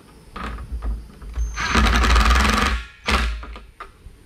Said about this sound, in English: Careful when you're running them into plastic with this driver, it'll blow through.